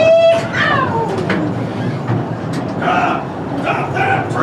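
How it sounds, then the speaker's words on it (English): Mine train roller coaster at Knott's Berry Farm rumbles and rattles along its track inside a themed mountain, with a steady loud roar under recorded show voices and bursts of effects. "Slow that train down!"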